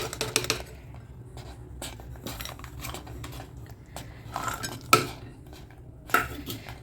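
Cashews and raisins go into a pan of sakkarai pongal with scattered metallic clinks and scrapes of a spoon against the pan, close up and sparse, with a louder clatter near the end.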